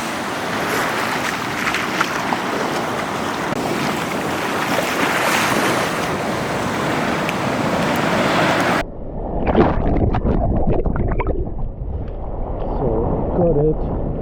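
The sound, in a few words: ocean waves on a beach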